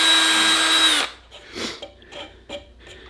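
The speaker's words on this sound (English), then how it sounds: "So we'll start, we'll center and drill." A power drill whirs loudly at high speed for about a second, drilling a centered hole in a flintlock gun wiping stick, then stops, followed by a few faint clicks and taps.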